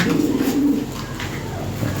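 A toy-breed pigeon (Lahori type) in a loft coos once, a low throaty burbling call close by, followed by quieter rustling and faint background noise.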